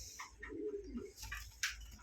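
A male Mourasel fancy pigeon gives a soft, low coo, faint and close, with a few brief chirps and rustles around it and no speech.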